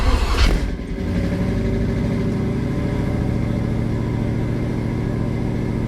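1965 Chevy Nova wagon engine cranking briefly, firing up and settling into a steady, close-up high idle with the choke engaged.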